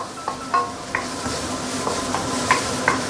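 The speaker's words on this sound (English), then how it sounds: "after you added in the powder, you continue sauteing them, and now you want to keep on stirring because you don't want your curry paste to get burnt" Curry powder and paste sautéing in a pan for curry fish head, with a steady soft sizzle and repeated clinks and scrapes of a spatula stirring, close and moderately loud, no talk.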